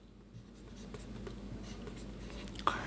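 Writing on a board during a grammar lesson comes through as soft, faint scratching strokes over low room hum, ending with a small tap.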